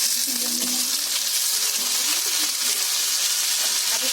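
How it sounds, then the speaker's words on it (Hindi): Tomatoes drop into a pan of frying onion and two green chillies, giving a steady, close, bright sizzle that hisses evenly throughout with faint stirring underneath. "अभी टमाटर डालने का।"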